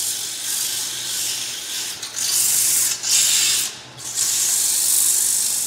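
Steady, hissy abrasive sanding with 120-grit paper against wood spinning on a lathe, continuous with a few brief pauses and lifts.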